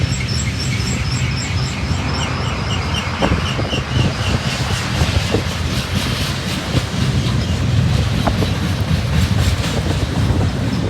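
A heavy Union Pacific mixed manifest freight train pulled by seven locomotives rolls past on the main track, a loud steady rumble with rhythmic clickety-clack of wheels over rail joints and birds chirping faintly above.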